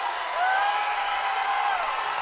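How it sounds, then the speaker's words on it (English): Large arena crowd at a college wrestling championship roaring and cheering loudly after a pin, a continuous dense wash of voices and whoops with no pauses. "The crowd is going nuts, man."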